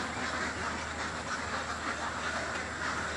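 A dense, constant chorus of six-month-old ducks on a duck farm, many quacks blurring together into a steady wash of noise.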